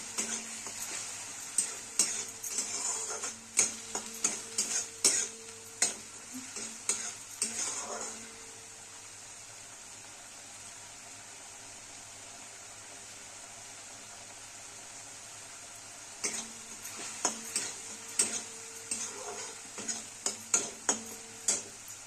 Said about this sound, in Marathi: असं तेल सुटूस अशी भाजायची ग्रेव्ही